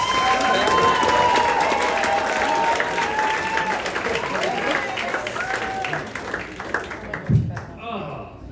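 A comedy-club audience at a stand-up contest claps and cheers as a comedian comes on. The applause is loud and dense at first and then thins toward the end, where a voice begins to speak.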